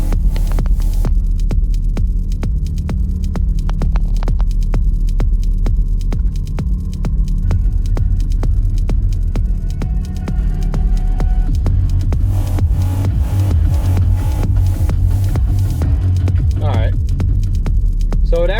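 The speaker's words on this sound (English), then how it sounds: "those are my air compressors running" Air compressors run in a garage during a Maserati Quattroporte radio install, a loud, constant low hum and throb filling the space, with scattered clicks and brief bursts of handling noise on top.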